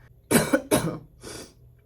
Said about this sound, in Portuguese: Eu começo a falar e eu começo a tossir